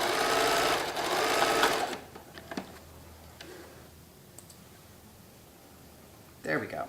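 A sewing machine backstitches a seam on a recycled khaki tote bag, a rapid loud mechanical whirring for about two seconds, then quiet clicks and handling, with a brief burst of stitching at the end.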